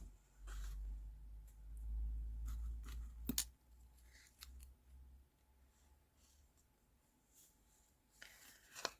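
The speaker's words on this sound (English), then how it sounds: "I think I might cut out some leaves" Scissors snipping paper leaf shapes for a handmade card, a few crisp close cuts spread out and interrupted by pauses, with low rumbling handling noise early on and faint rustling.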